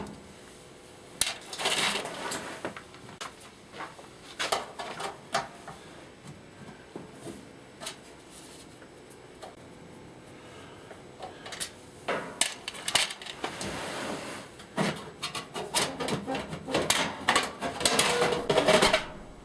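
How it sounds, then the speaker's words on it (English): A Hotpoint cooker oven cooling fan assembly being removed, with scattered metallic clinks, taps and rattles of parts and tools, irregular and close, busier toward the end. "With these out of the way, the fan can be lifted out."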